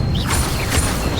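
A fire spell cast in Hogwarts Legacy, a dense mechanical crackling rush held steady and fairly loud for its whole length, with no talk.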